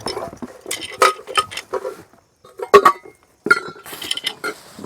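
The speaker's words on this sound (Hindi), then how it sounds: "आपकी सेवा में एक थाली सेट है" Metal dishes from a thali plate set clink and clatter in sharp, irregular bursts as they are handled outdoors in a forest setting, with brief quiet gaps and no speech.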